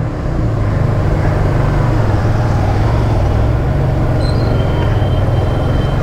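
A Kawasaki W175 Street motorcycle engine (BS6 Phase 2) runs at a steady, close, loud idle with an even low rumble throughout, with no talk over it.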